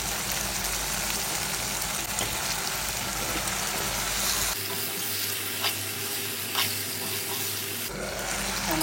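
Chicken legs sizzle and fry in spice paste in a pan, a continuous loud crackling hiss with occasional stirring clinks, no voices.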